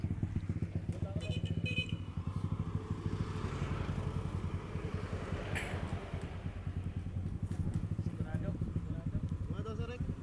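A Yamaha Mio and a Suzuki Raider race in Alabel, Sarangani, their engines putting out a continuous buzzing, pulsing drone that holds steady throughout, with people talking over it.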